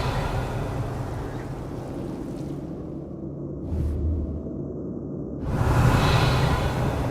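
A magical Revelio spell cast in Hogwarts Legacy gives a short airy whoosh that rises midway, followed by a broader swelling rush over low ambient game rumble, with no talking.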